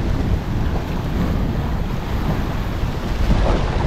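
Choppy waves wash against the water's edge at a fishing spot, a continuous broadband surf mixed with strong wind buffeting the microphone, loud and steady without speech.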